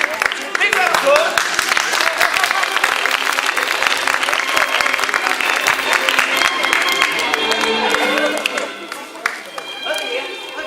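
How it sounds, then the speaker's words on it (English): Loud, sustained applause from an audience with a hint of crowd noise runs strongly for about eight seconds, then thins out and fades while a voice talks over the tail. "Big round of applause."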